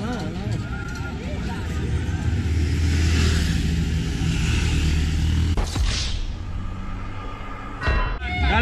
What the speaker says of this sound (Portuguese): As motos da polícia chegando